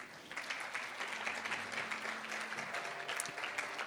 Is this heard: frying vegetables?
no